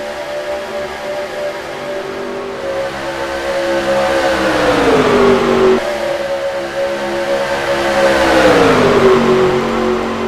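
Stock cars in NASCAR Racing 2003 at Atlanta drone past with engines rising and falling in pitch, two sweeping revving passes over a steady roar, no voices.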